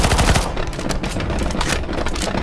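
Rapid automatic gunfire in CS:GO Zombies, loud dense bursts of shots rattling continuously with no pauses.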